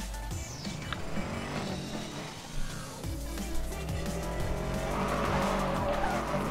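A car in the Need for Speed Most Wanted video game drives with a steady engine drone and squealing, skidding tires, moderately loud and continuous with no talk.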